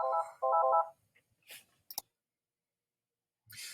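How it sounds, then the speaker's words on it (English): A telephone rings in two loud, close bursts of buzzing electronic tone, then a few faint clicks and rustles follow in an otherwise quiet room. "sorry guys, I had a phone call."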